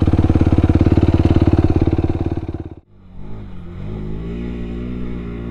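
An off-road vehicle in two-wheel drive revs hard while climbing a steep desert sand hill, a loud pulsing engine roar that cuts out abruptly partway, then settles into a lower, steadier idle.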